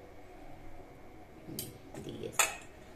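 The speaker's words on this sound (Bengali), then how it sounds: "জাস্ট এখন আলুটা কেটে নিচ্ছে।" Potatoes are sliced with a knife in a home kitchen while cooking tilapia curry with fresh cauliflower, giving a few soft, moist cuts and a sharp blade tap against a quiet background.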